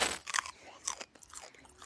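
Aloe vera leaf being chewed close up, with moist crunching bites and scraping in an irregular rhythm, fairly faint and with no talking.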